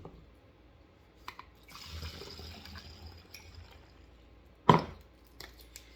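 Liquid pours briefly from a container as a cup of Thieves household cleaner concentrate is measured out for a homemade stain remover, a soft splashing stream followed by a sharp knock of the container being set down.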